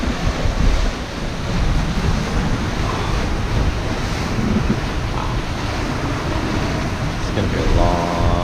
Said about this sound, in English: These waves that are all messed up because of the current